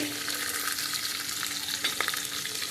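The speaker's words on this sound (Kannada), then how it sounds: "ಬೇವ್ರೆ ಹಾಕಿದಾಗ ಸ್ವಲ್ಪ ಈರುಳ್ಳಿ ಹಾಕ್ತೀನಿ" Chopped onion frying in a pan while dal is being cooked, a steady close sizzle with light stirring scrapes and no voices.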